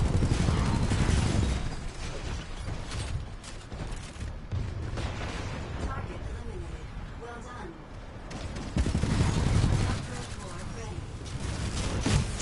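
Rapid bursts of arc-round gunfire in the video game Titanfall, a dense, continuous barrage with heavy low-end rumble and mechanical clatter, loud throughout with louder surges near the start and end, mixed under game chatter.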